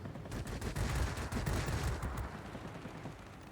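Machine guns on an I-153P biplane in the video game World of Warplanes firing in short rapid bursts, fairly faint beneath engine drone and fading toward the end.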